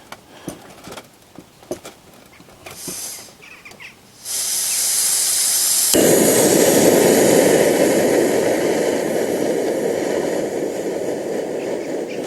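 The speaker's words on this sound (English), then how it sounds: "It's getting a bit breezy now" Wind picks up at a motorcycle campsite, shifting from quiet clatter to a sustained, breathy rush of gusts that stays loud and close for the rest of the moment.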